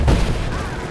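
Gunfire in the video game Rise of the Tomb Raider, set in abandoned mines: a loud, dense burst of shots and booms that quickly merges into one sustained roar, with no voices.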